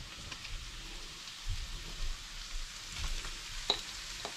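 Vegetables and meat frying in a pan for rice noodles, a soft steady sizzle with low crackling bursts, close and fairly quiet, no voices.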